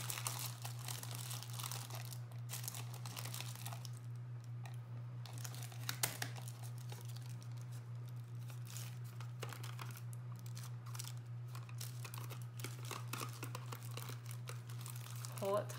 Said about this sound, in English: take your rubber band and your wax paper and secure it to the end of your tube